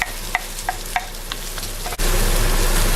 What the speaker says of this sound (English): We can now add our onions.